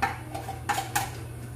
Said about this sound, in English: So I'm gonna stir.